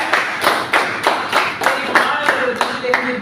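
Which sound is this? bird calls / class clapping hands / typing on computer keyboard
class clapping hands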